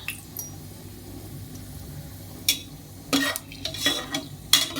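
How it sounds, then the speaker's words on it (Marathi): Cashews fry in hot oil in a pan, a low steady sizzle with several scraping stirs and light clinks of a utensil against the pan, close by and without talk. "तेल छान तापलं आहे त्यात आपण आधी काजू तळून घेऊया"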